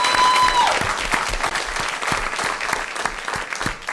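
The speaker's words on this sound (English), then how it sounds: "let's give her a round of applause" An audience applauds at a city council meeting, a dense run of many hands clapping that continues steadily after a brief tone fades at the start.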